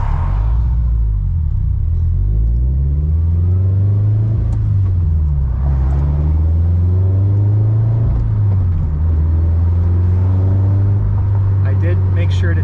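A Scion FR-S running a new tune drives along with an engine note that rises and falls through several gear changes, a loud, steady close rumble inside the car.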